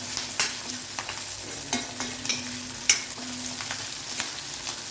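Onions, asafoetida and tamarind sautéing in hot oil, a steady close sizzle with scattered sharp clicks and scrapes of a spoon stirring the pan, no voices.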